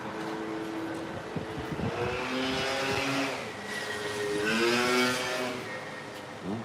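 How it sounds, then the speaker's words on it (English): A noisy scooter passes by, its engine whine rising and falling in pitch as it approaches, peaks close by and then recedes, with no talk over it. "That's his noisy scooter."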